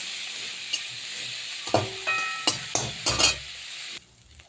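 Cauliflower leaves with garlic cook in a pan, giving a low sizzle broken by several close clanks and scrapes of a utensil, a brief ringing metallic tone, then a muffled hush as a lid goes on.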